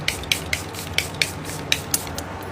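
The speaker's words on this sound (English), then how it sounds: "so setting spray." Makeup setting spray misted from a pump bottle: about nine quick, crisp hissing spritzes in a steady rhythm, close and fairly loud with nothing else around them.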